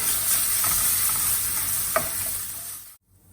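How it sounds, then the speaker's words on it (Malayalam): Pepper chicken is stirred in a hot pan with soy sauce and tomato ketchup, a steady sizzle under a few scraping spoon strokes, then it cuts off abruptly near the end. "ഇനി നമുക്ക് സോയ സോസും ടൊമാറ്റോ കെച്ചപ്പും ആഡ് ചെയ്ത് കൊടുക്കാം. ഇനി ഇതൊന്ന് നന്നായിട്ട് മിക്സ് ചെയ്ത് കൊടുക്കണേ."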